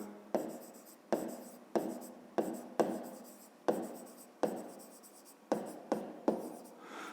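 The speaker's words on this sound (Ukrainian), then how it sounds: "Тепер кути треба записати трикутника. Пишемо кути трикутника." Pen writing by hand on paper while a triangle's angles are noted for a fifth-grade maths exercise, heard as a steady series of about a dozen short scratchy strokes, close and quiet, with no talking.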